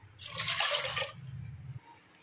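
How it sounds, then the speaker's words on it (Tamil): A brief rushing gush of a tumbler of water splashes into a cooking pot of green pea kurma, then settles into a lower pouring sound that stops abruptly. "ஒரு டம்ளர் தண்ணி ஊற்றிக்கலாம்"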